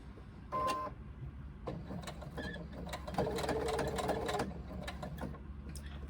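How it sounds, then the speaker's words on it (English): A sewing machine top-stitches a fabric pouch, running in short bursts with a steady mechanical whir and rhythmic needle clatter, fairly quiet and close, with no talking. "try and sew on exactly the same line that we used with our top stitching"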